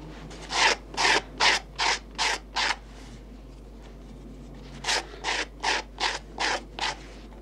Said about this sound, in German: schabt Esser das Kappenleder auf der Vorder- und Rückseite mit einer Glasscherbe glatt